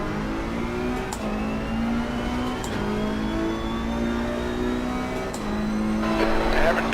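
A Porsche 991 GT2 race car in the Assetto Corsa Competizione sim racing game at Laguna Seca revs steadily, its engine note climbing through gears with brief shift dips, loud and continuous, with faint tyre noise.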